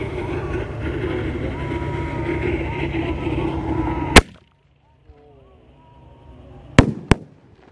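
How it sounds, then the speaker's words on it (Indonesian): Two Roman candle fireworks fire during a night of Eid al-Adha takbiran celebrations, each launching with a sharp, loud bang. Crackling noise and chatter come before them, and two more quick cracks follow after a quiet gap. "Double attack Roman Candle"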